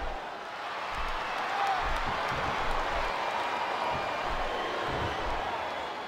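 Crowd noise from a WWE 2K24 wrestling video game arena swells and holds as a steady roar of cheering and applause, fairly distant and diffuse, with no talk over it.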